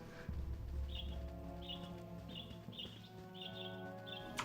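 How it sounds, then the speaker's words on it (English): A squeaky bird call from the Baldur's Gate video game, repeating as short high chirps roughly every half second to second over a steady ambient game backdrop with low hum. "There's a bird that sounds really squeaky."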